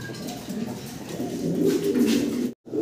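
Fancy pigeons coo nearby in a low, rolling, repeated murmur that swells slightly before cutting off abruptly near the end, with no voices.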